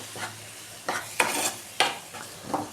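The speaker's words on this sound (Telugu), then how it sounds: "అది మొత్తము కర్రీలో వేసేసి ఒక 10 మినిట్స్ అలా మొత్తం ఫ్రై చేసేస్తున్నాను" Ground masala paste frying in an egg curry pan, stirred with a few sharp scrapes and clanks over a soft sizzle, close and moderately loud, with no talk.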